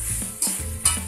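Cooked rice is stirred in a pan with roasted sesame, making two or three quick scraping strokes with soft sizzling over about a second, close and moderately quiet.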